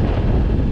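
Wind blows strongly across open farm fields, a brief burst of loud, rumbling gusts buffeting the microphone with a dense low roar and no voices.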